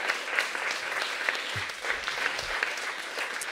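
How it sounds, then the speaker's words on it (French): Sustained applause from a conference audience in a hall, steady dense clapping throughout, moderately loud with a few low thumps underneath. "Julie est au fond de la salle pour savourer les applaudissements"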